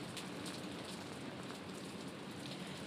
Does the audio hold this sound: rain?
yes